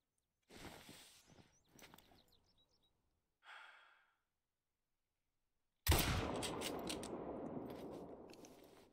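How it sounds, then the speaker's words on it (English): A hunting rifle fires in TheHunter: Call of the Wild. After quiet breaths and rustling, one sharp loud blast comes near the end and rings out into a long rumbling echo. "I was firing very blind there, so I probably haven't hit him"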